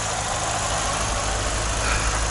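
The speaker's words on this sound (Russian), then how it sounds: "Сейчас двигатель работает" A Moskvich 2141 car engine idles steadily after having been started following a seized water pump, its close, continuous mid-pitched rumble running without breaks and with no talk.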